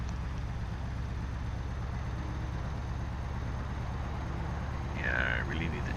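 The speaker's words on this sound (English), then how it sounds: "I really need to change that engine sound to be a open pipe or something" A truck engine in the Euro Truck Simulator 2 driving game drones steadily at low pitch throughout, with a brief higher tone near the end, with no talk over it.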